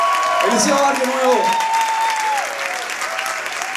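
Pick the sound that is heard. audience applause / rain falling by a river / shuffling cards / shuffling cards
audience applause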